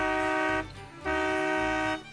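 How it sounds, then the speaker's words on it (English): A truck air horn fitted to a narrow gauge rail goose gives two long, steady, loud blasts with a short gap between them, close by. "the air horns off of trucks are rather interesting as well"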